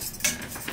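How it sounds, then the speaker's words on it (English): A utensil scrapes and taps quietly in a pot of cheese sauce with half and half, a short, faint stir with one soft clink. "This is the half and half going in, I'll just keep stirring."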